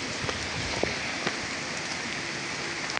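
Rain patters steadily on a surface, a constant broadband hiss with a few louder drips, close and continuous.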